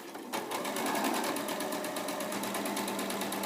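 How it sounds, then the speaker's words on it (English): A sewing machine runs a long basting stitch to attach interfacing to fabric, a close, steady, rapid needle clatter that starts after a brief pause and keeps an even rhythm throughout. "We're now going to stitch the interfacing to the fabric. We're going to use our largest stitch, which is called the basting stitch."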